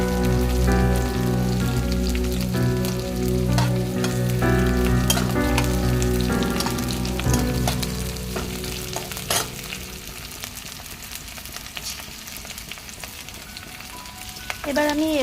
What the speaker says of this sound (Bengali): একটু হালকা হালকা ভেজে নিচ্ছি।